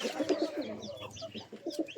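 Pigeons coo close by in soft, repeated throaty rolls that overlap one another, with a few faint chirps in between.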